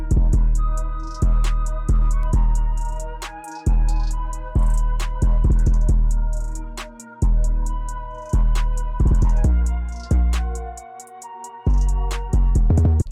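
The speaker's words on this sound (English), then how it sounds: "So our hi-hats in context with our other elements sound something like this." Dark trap beat built in FL Studio with fast chopped hi-hat rolls riding over deep booming bass hits and sparse melodic tones, loud and steady across the whole passage, no talking.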